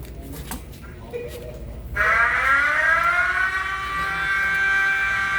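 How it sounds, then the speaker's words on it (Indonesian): After a moment of quiet, a loud wailing electronic emergency siren from a TOA PA system starts abruptly and holds steady, rising slightly in pitch. "ini suara emergensinya, semua zona otomatis nyala ya"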